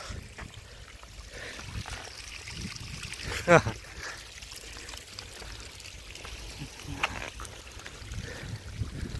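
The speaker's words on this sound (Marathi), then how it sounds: "हा छोटासा धबधबा." A small monsoon waterfall near a hillside fort outside Pune, carrying little water, gives a steady diffuse rush of falling water with scattered voices and a brief louder clatter partway through.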